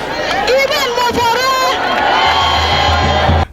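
A massive crowd of enthusiastic supporters at Senator John Owan Enoh's governorship campaign rally cheers and shouts loudly and continuously, with whoops and excited voices, and heavy drumming joins in toward the end.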